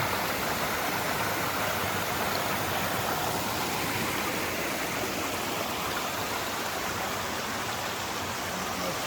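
Creek water on an Appalachian Trail hike flows in a steady, dense, unbroken rush, close and fairly loud, with no voices over it.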